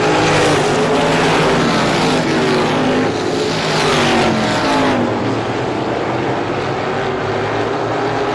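Stock cars race at Star Speedway in a Super Feature event, engines roaring loud and continuous as cars pass close with rising and falling pitch, the roar overlapping throughout with no pause.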